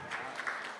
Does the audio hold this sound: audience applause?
yes